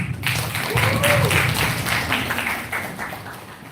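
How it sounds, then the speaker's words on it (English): Scattered clapping from a seminar audience, moderately loud and short-lived, with voices mixed in underneath before it thins out. "Give applause for us."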